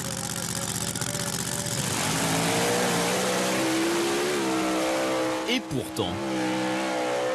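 A dune-climbing vehicle engine roars in the Abu Dhabi desert, holding a loud, steady drone before its pitch climbs in a hard rev and then cuts out briefly twice near the end, with a voice speaking briefly over it.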